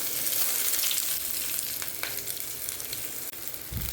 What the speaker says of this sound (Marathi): थोडंसं फ्राय करून घेऊया आपण.